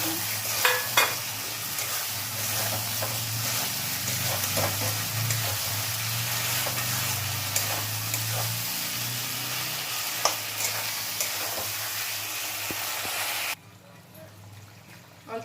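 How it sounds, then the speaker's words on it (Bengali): Sliced round potatoes added to fried spice masala for a fish curry sizzle steadily in a pan, with repeated scraping stirs and clinks of the spoon; the frying cuts off abruptly near the end. "এর ভিতরে আমি আলুটা দিয়ে দেবো, গোল গোল করে কেটে রাখা আলুগুলো"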